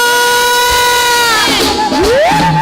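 A church congregation bursts into loud joyful shouts and cheers during Sunday worship, a sustained wall of voices rising and whooping close by, following a held sung or called note.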